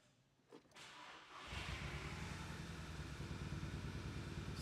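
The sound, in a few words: car engine starting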